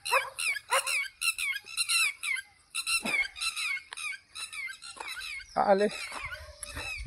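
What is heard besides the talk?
dogs barking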